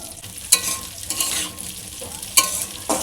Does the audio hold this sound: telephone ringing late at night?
no